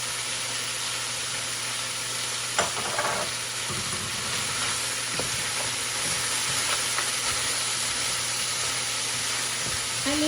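Breaded cutlet (panné) fries with garlic in a pan, giving a steady, moderate sizzle with a few clinks and stirring bumps over about ten seconds, and no talking.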